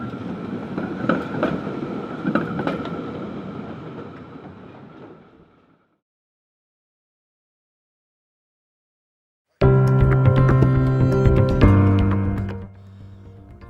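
A train rumbles along the rails, fades into silence, then a louder rail passage returns with metallic clatter and sustained wheel tones.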